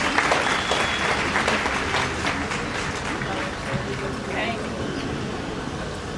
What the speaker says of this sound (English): Can we have a big round of applause, ladies and gentlemen?